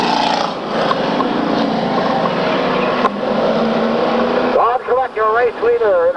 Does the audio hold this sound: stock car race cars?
yes